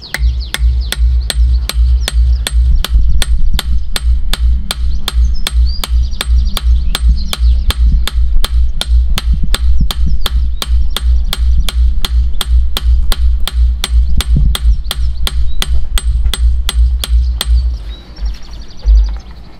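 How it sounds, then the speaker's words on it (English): A hammer strikes a scythe blade on an anvil in a fast, even rhythm, dozens of sharp ringing peening taps close by, continuing almost without pause before briefly stopping near the end. "And then I strike with a lighter hammer usually."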